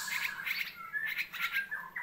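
Bright, bubbling calls of a straw-headed bulbul ring out in quick phrases, loud and close, repeating several times over a quiet background.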